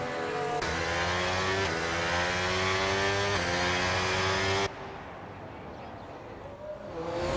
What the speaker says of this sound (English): Have our first couple of cars out on track.